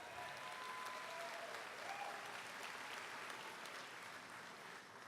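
Audience clapping for family and friends at a community college commencement ceremony, a broad continuous wash of applause heard faint and distant throughout.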